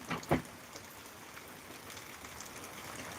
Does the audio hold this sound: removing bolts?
no